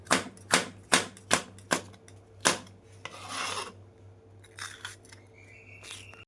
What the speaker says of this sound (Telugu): క్యాప్సం కూడా ఇలా కటింగ్ చేసుకోవాలి